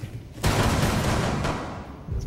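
Gunfire in the video game Rainbow Six Siege, a dense sustained burst of shots that starts abruptly and rolls on for about two seconds, fairly loud and close.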